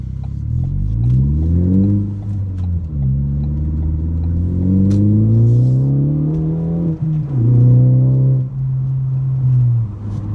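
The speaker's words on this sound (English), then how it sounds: "hearing the turbo, flutter when I'm letting off throttle" A Ford Focus ST's turbo engine with an aftermarket catback exhaust revs repeatedly, a deep booming exhaust note climbing and dropping in pitch, loud and close, with a turbo flutter as the throttle lifts.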